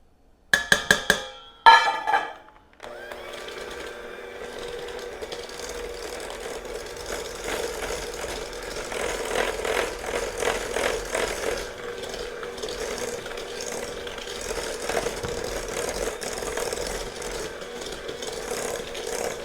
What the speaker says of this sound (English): I'm going to beat it for a second, not very long, with my mixer